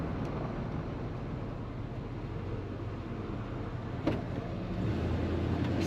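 A 1977 Ford F100 Ranger XLT pickup engine idles steadily with a low, even rumble throughout, fairly quiet and close, with one brief sharp tick near the end.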